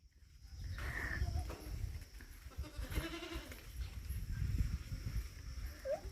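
Sheep are herded in a village field with scattered bleats rising over rustling and shuffling hooves, distant animal calls and faint murmuring voices in the background.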